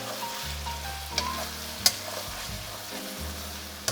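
Spices being stirred into a frying pork curry with tomato and red chilies, a steady sizzle with scraping spoon strokes and a few sharp clinks against the pan, close and moderately loud, no talking.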